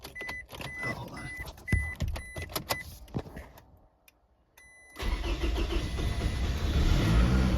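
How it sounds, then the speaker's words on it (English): A Scion tC with newly repaired CV axles and engine mounts, first heard through clicks and a power-window whir, then after a short near-silence its engine cranks and catches into a loud, steady idle close by. "This could be its first start. Hopefully it starts."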